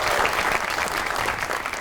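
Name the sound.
studio audience applause welcoming a guest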